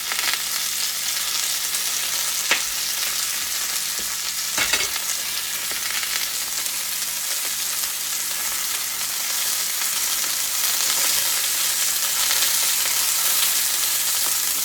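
Onion rings sizzling in a hot skillet still hot from searing chicken on high, a steady, loud, crackling fry hiss that runs continuously with occasional small pops and stirring clatter.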